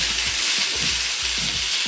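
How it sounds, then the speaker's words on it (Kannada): Fresh okra, about 250 grams, fries in half a teaspoon of oil in a pan, giving a continuous soft sizzle and hiss with faint low stirring bumps underneath. "ಇದಕ್ಕೊಂದು ಹಾಫ್ ಟೀ ಸ್ಪೂನು ಆಯಿಲ್ ಹಾಕ್ಕೊಂಡು ಹುರ್ಕೊಳ್ತೀನಿ ಬೆಂಡೆಕಾಯಿನ"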